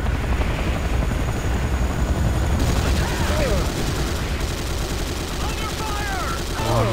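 Rapid bursts of gunfire from the video game Renegade ring out over a constant helicopter-like engine drone, loud and busy with overlapping shots throughout.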